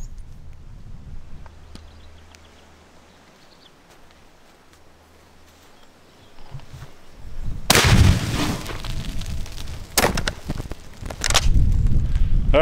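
A dragon's breath shotgun shell fired at a fire extinguisher lands as a sharp, loud outdoor blast after a quiet stretch. It is followed by a harsh, hissing burst and more cracking noise in the seconds after.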